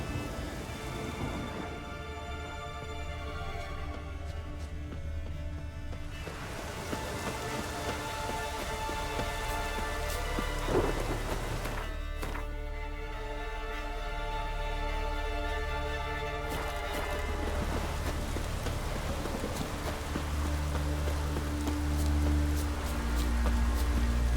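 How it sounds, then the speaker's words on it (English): Steady rain and storm in The Witcher 3 keep up a continuous hiss and patter throughout, with a low rumble of thunder building toward the end. "Storm, damn it."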